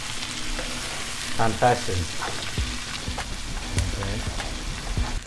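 Onion and garlic sizzle and crackle in a hot pan with scattered pops and the clatter of stirring, close and lively, while someone says a few words.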